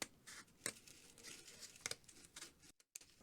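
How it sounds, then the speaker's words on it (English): Scissors snip through packaging on a shipping box, a few quiet crisp cuts and crinkling rustles at close range, faint and uneven, with no talking. "we're going to just take some scissors, and we're going to cut that off"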